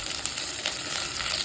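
Small onions, curry leaves and garlic sizzle in hot oil in a pan for a spicy brinjal curry, giving a close, steady frying crackle over a short moment with no voices.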